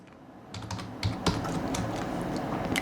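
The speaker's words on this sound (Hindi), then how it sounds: "अभी हम यहाँ पर टाइप करेंगे" Keys clatter on a computer keyboard in rapid, irregular taps that start soft and grow steady and close, continuing alone without speech.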